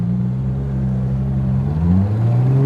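Ferrari 812 Competizione engine droning steadily with a low harmonic tone that rises in pitch near the end, heard from inside the moving car with strong wind noise over it.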